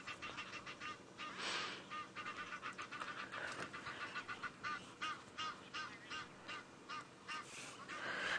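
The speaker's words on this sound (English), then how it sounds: "Oh, you can hear the Egyptian geese." A flock of Egyptian geese honks repeatedly at sunset on a wildlife safari drive, their harsh, rhythmic calls overlapping continuously over a steady outdoor background as birds come in to land.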